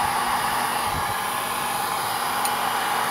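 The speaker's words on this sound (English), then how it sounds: "I don't ever actually use this blow dryer on my hair, so I'm not really very good with it." A handheld blow dryer runs steadily and loudly throughout while it is used to dry rose petals for a homemade blush, a constant airy roar with no speech.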